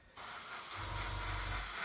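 Airbrush spraying paint onto a plastic model kit, a steady close hiss that starts abruptly and runs without a break, with a low mechanical hum from the compressor joining partway through.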